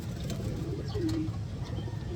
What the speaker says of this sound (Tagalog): ito update naman sa mga ibon guys na breeders natin